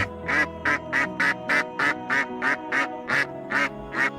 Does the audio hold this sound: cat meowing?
no